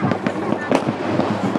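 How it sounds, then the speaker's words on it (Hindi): Fireworks and firecrackers explode loudly in a dense series of sharp, crackling bangs at a Chhath Puja celebration on a riverside ghat by the Dhansiri River, with crowd voices underneath. "यहाँ पे इतना बम ब्लास्ट हो रहा है"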